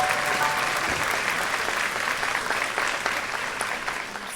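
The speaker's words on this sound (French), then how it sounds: "On les applaudit tous ensemble." Warm applause from the audience at a youth choir concert keeps up as a dense, continuous roll of many hands clapping, easing slightly toward the end.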